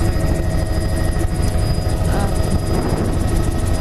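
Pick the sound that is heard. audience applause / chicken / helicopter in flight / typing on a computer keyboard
helicopter in flight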